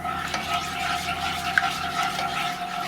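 A spoon stirring cheesy scrambled eggs in a hot pan, soft continuous sizzle with faint scraping strokes and a small click midway, close and steady with no talking.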